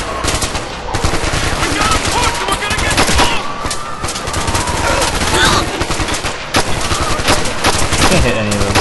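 Sustained machine gun fire and other gunshots in the video game Ghost Recon Future Soldier, loud, dense and continuous rattling bursts throughout.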